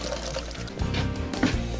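Water pours from a jug for rinsing, a continuous splashing stream lasting under two seconds, close and fairly loud, with a brief spattering burst near the end.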